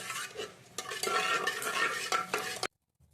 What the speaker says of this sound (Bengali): এবার একটুখানি জল ঢেলে ভালো করে একটুখানি নাড়িয়ে চাড়িয়ে